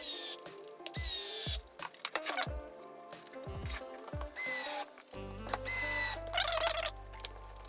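Screws driven into a Traxxas Slash 4x4 LCG RC car chassis with a power driver, several short whirring bursts separated by pauses and small clicks of parts being handled, close and clear without talking.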